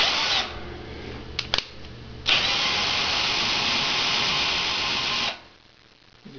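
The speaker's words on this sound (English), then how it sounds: "I've just got it hooked up to my drill right now for testing it, make sure it doesn't bind up or anything." A handheld drill drives a 9x20 lathe's CNC X-axis: a short burst, two quick blips, then a steady close whirring run of about three seconds that stops abruptly.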